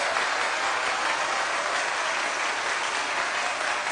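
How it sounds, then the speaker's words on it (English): Steady, full applause from an audience at a Ghana's Most Beautiful 2024 pageant night, continuous and even throughout with no pauses or talk. "I need you ladies to give yourselves a round of applause"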